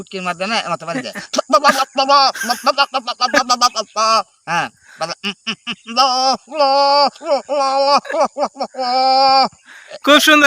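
An older man imitates the bleat of a male goat, repeating loud, close, quavering calls in short bursts separated by brief pauses.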